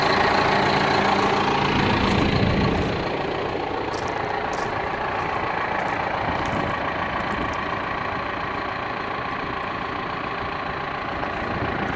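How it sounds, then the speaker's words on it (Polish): A 2010 John Deere 6430 Premium tractor engine idling steadily, a close, continuous diesel rumble with a slight drop in level after the first few seconds and a few faint clicks on top. "Naprawdę ciągnik chodzi i zachowuje się bardzo dobrze."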